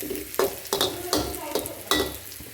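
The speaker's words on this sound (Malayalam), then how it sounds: "ബ്രൗൺ അതുപോലെ ഒന്ന് മൂപ്പിച്ചെടുക്കുക വറ്റൽ മുളക് കറിവേപ്പില ചെറിയ ഉള്ളി" Dried red chillies, curry leaves and shallots fry in a pan for chicken curry, a steady sizzle broken by five or six rhythmic scraping stirs of a spoon against the pan, close and clear.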